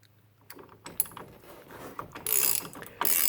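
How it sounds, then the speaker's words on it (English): A half-inch ratchet works on the steering wheel nut of a Polaris RZR XP, with quiet clicking and mechanical clatter building to louder ratcheting bursts near the end, close up with no talking. "along with a 1/2 inch ratchet or breaker bar or impact wrench if you prefer"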